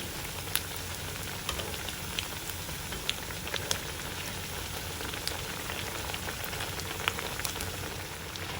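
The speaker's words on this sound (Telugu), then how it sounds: "ఒకవైపు వేగాక రెండో వైపు తిప్పుకుని 2 వైపులా కూడా ఎర్రగా వేగేట్టు వేయించుకోవాలి." Poha snacks frying in oil in a pan, a steady, quiet sizzle with scattered small crackles and pops throughout.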